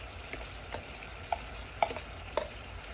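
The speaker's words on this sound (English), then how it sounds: "I've strained the gravy and I've returned it to a bubble." Gravy made with port wine and thickened with arrowroot bubbles in a pan, a soft bed of sizzle broken by a few distinct pops and blips spaced about half a second apart.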